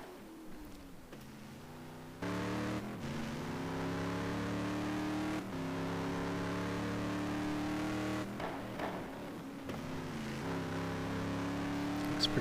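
A Ford GT1 race car laps Laguna Seca, its engine droning steadily with clear gear changes and rising revs across several shifts, loud and close throughout.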